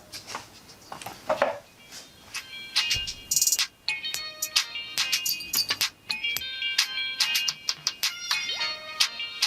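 Music plays through a small wireless earbud speaker held out in the open, bright and thin, with chiming tones and light percussion, steady and close, no voices over it.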